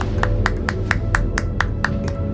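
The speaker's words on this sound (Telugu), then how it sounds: "చప్పట్ల శబ్దం వినిపించింది" About ten crisp claps at a steady, even rhythm, each sharp and close, over a low background hum.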